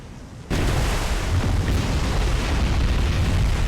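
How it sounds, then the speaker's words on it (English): A ship's magazine detonates in the naval combat game War on the Sea, bursting into a loud, sustained roaring explosion that fills the whole spectrum and rumbles on without fading. "And a very nice magazine explosion"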